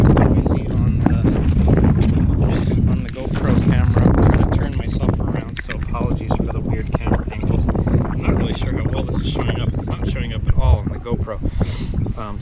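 Strong wind buffets the microphone at a beach parking lot in Osterville, Massachusetts, a steady loud low rumble running the whole time with a voice talking over it.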